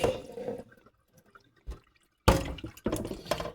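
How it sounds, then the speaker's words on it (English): Cooking water pours out of a pot of potatoes for a curry shrimp and okra dish, heard as a splashing burst, a quiet pause with faint drips, then two more loud gushing pours close by. "Drain the water out."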